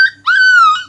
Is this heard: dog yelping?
yes